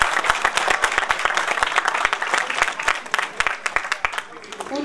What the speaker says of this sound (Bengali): একটু জোরে জোরে হাততালি হোক।